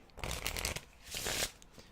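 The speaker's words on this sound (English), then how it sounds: "shuffle that back" Playing cards riffle-shuffled up close in two quick bursts, a crisp fluttering rattle with a brief pause between them.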